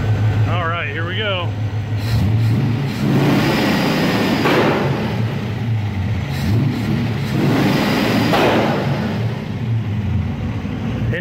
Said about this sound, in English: I think I have it set at 3500 RPM just to show it off. So let's smack that throttle.